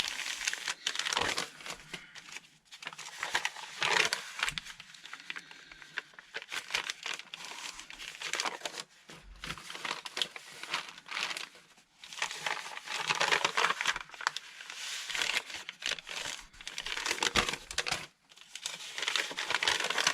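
Sheets of indigo-dyed paper are handled and crinkled up close, giving continuous crisp rustling and crackling in irregular bursts with brief pauses between.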